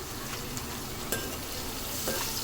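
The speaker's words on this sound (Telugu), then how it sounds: "మిర్చి అయితే ఫ్రై అవుతున్నాయి." Green chillies frying in hot oil give a steady, close sizzle with a few faint stirring scrapes, and no one speaks.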